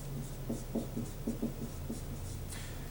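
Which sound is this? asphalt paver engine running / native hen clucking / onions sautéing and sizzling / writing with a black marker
writing with a black marker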